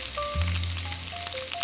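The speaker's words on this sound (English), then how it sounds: "To fry up the tofu, I put some avocado oil in a hot pan" Tofu frying in avocado oil in a hot pan, a dense, steady sizzle close by with a low rumble underneath, unbroken for the whole stretch.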